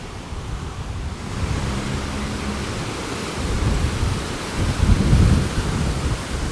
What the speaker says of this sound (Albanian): Wow, çfarë erë fortë.